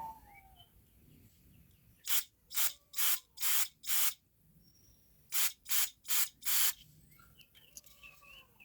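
Two bursts of short, loud spray blasts, five then four in quick succession, as air or cleaner is shot through the ports of a cleaned carburetor part from an old tractor, with quiet workshop background between them.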